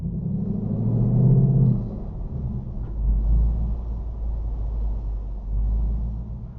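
A 2025 Ford Mustang GT pulls out of a store parking lot in the evening, heard from inside the cabin as a steady low engine rumble that swells gently a few times as it drives off, with no talking.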